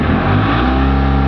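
The diesel engine of a 2022 Mahindra Supro BS6 pickup with a low-accelerator fault and a high-soot warning runs loudly and close by, its deep drone rising slightly as it revs, with no one speaking.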